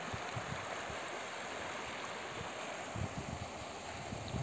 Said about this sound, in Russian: Вот такая речка